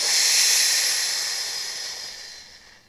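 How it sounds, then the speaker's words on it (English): A steady, breathy exhale during a core exercise, a close airy rush that starts strong and slowly fades over a few seconds, with no talking. "three-dimensional breath in, exhale, inhale, toes come back down"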